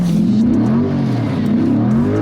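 A Corvette C8 V8 accelerates hard under launch control, its deep engine note climbing steadily and loudly with no break and no talking.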